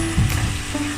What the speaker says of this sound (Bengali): চিকেন ভাজা হচ্ছে